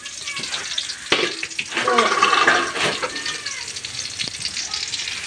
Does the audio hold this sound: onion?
yes